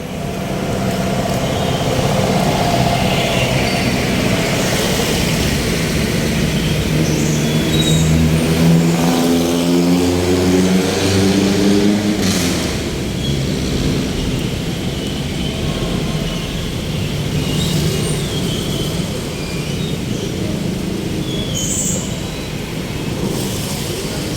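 Road traffic rumbles through Makati in Manila, a continuous loud wash of engines with one vehicle accelerating and passing close by, its revving pitch sweeping up midway, under a steady background roar.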